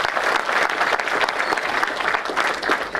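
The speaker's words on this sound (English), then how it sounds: "a big round of applause to the NDR." Steady applause from an audience at a disaster-response preparedness workshop, a dense, continuous wash of clapping that holds loud and even for the whole stretch with no talk over it.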